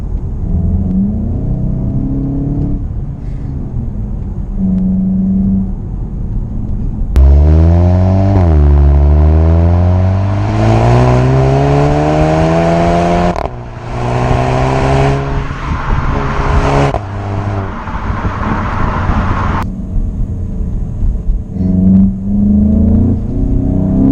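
A Volkswagen Golf with front-wheel drive accelerates hard, its engine note climbing loud and close through several rising sweeps with brief drops at gear changes, and a lower steady hum before and after.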